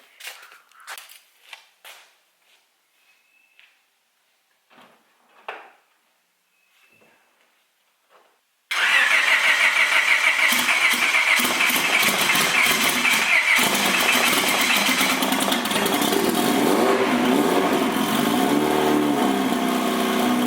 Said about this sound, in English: I'm gonna do a quick start up on the car.